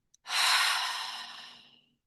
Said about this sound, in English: we're going to take a big cleansing breath together. So we'll inhale through our nose, open mouth exhale.